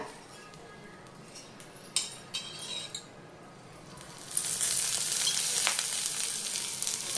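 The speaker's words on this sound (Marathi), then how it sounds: "तेलामध्ये पण एक 10-15 सेकंड चांगले परतून घेऊया त्याच्यामध्ये" Sweet corn sautéing in oil in a pan for a sweet corn chivda snack, with a few utensil clinks and scrapes before a loud, steady sizzle rises and holds to the end.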